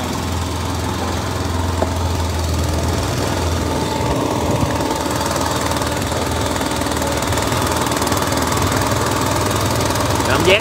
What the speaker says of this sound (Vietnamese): đi chạy ghe xong nha đi bằng máy nha